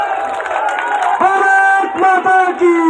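A large youth crowd at a political rally in Taranagar claps and cheers loudly for a few seconds, with shouts rising over dense, rhythmic applause.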